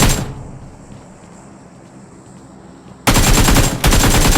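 Rapid bursts of gunfire in the game BGMI open the moment, then quiet, then a loud sustained automatic volley with a brief pause mid-burst.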